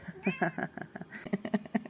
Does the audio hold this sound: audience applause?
no